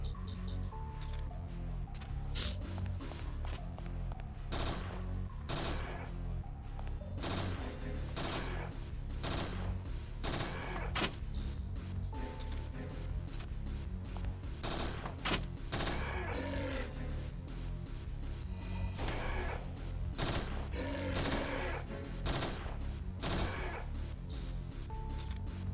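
Rapid gunfire rattles on without pause as wooden target boards are shot in Parasite Eve II, dense repeated cracks forming a loud, steady barrage.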